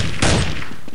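A single burst of automatic gunfire in Counter-Strike 1.6, a short close, loud crack with a brief tail, heard alone.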